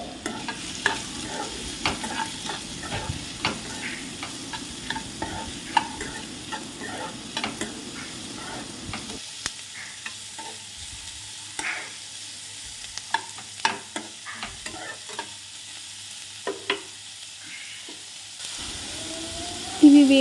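Chicken with spices frying in a pan, cooked without oil, with a steady low sizzle and scattered scraping stirs and clicks across the whole stretch, fairly close and alone.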